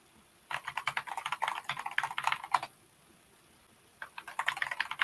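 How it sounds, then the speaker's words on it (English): Rapid clicking of a clicky computer keyboard as someone types a sign-in password, two bursts of fast keystrokes separated by a short pause, close and clear with no talking. "That's a very clicky keyboard, Jake."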